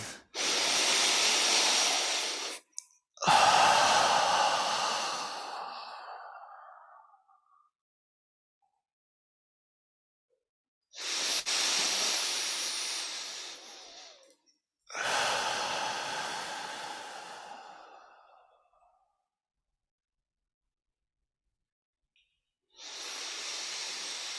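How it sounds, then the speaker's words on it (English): Deep lower-belly breathing exercise: slow, loud, breathy inhales and exhales in a steady cycle, each lasting a few seconds with silent pauses between, no talking. "go ahead and just start your 12-fold lower belly breathing"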